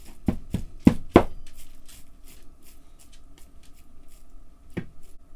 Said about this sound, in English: Now just kind of break the meat up a little bit.